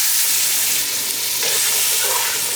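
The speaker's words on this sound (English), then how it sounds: "Now we give that a mix." Canned petite diced tomatoes are stirred into a pot of étouffée, producing a continuous close bubbling sizzle with a wet churning of the spoon and no voices.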